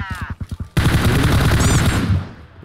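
Rapid automatic gunfire in the video game PUBG, opening with a few separate loud shots and then a sustained burst of close, heavy rattling fire that fades at the end.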